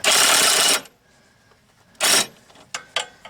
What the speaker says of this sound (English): I was able to put my Ryobi impact driver